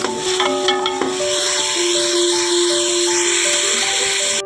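Onions go into a frying pan for dal, giving a close, steady sizzle with some stirring scrapes and faint background tones, with no one speaking.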